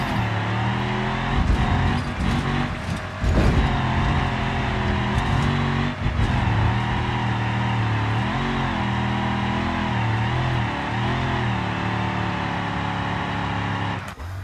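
A cargo van's engine revs hard and steadily in the BeamNG driving game during a hill climb, a loud continuous drone that rises and falls in pitch with brief throttle surges and no talking.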